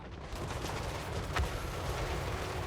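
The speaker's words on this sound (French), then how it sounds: "C'est pris un bon coup de canon." Booming cannon fire in a video game battle of Empire versus Dwarves rumbles through a dense, continuous battle din, with one sharper blast standing out near the middle.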